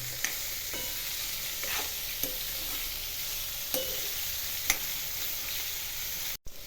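Carrots, green chillies and other vegetables sautéing in a pan for vaghareli khichdi, a steady low sizzle with occasional scraping stirs of a spoon every second or so, close and without speech.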